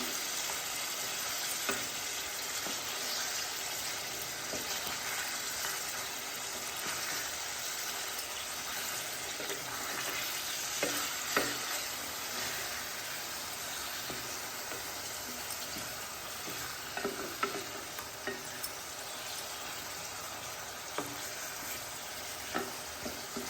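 Fish pieces fry in oil in a pan, a steady soft sizzle and hiss throughout, with occasional faint knocks and stirring sounds, heard at moderate distance with no talking.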